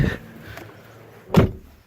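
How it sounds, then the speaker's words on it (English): A 2007 Hyundai Elantra car door, just repaired after its latch would not open, is opened from outside: a quick click of the handle, a short pause, then a solid latch clunk as the door swings open nearby. "Door opens from outside"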